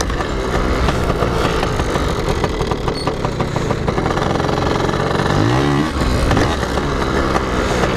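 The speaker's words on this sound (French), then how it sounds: "Faudrait que je parte moins vite pour que la moto elle prenne moins vite des tours" A PIWI 80 motorcycle engine revs continuously during wheelie practice, holding a loud, steady drone with jerky throttle blips and a rising rev sweep near the end, close to the microphone with no voices.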